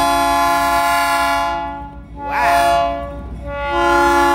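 A passing train sounds a long, loud multi-tone horn, the blast fading briefly and then returning as the train goes by, with a low rumble of rail cars underneath.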